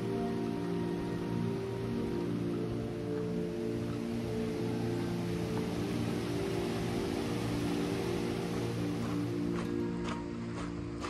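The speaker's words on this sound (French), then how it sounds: "vous m'entendez peut-être, mais il pleut viotte un petit peu" Rain falling during a mountain hike in the Alps, a steady continuous hiss of drops on surfaces and gear, heard alone over a constant low rumble with a few faint ticks near the end.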